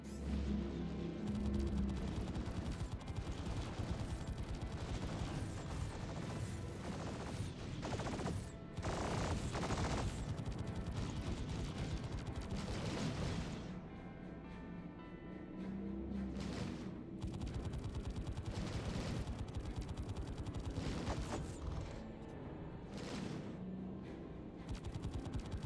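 Sustained, dense gunfire and blasts ring out in a space combat mission of the game Star Conflict, with rapid automatic bursts, booms and crashes running loud and nearly continuous, easing briefly in places.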